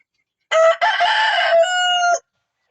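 A rooster among five-month-old farm chickens crows once, loud and close, a single drawn-out cock-a-doodle-doo of under two seconds against otherwise quiet surroundings.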